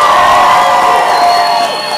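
Loud crowd cheering and applauding on stage at the American Royal 2013 event, a dense roar of whoops and shouts over clapping that fades slightly toward the end.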